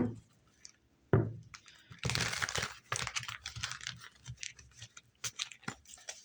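Tarot cards riffle and slap together in quick, crisp bursts, close and fairly quiet, with short pauses between shuffles.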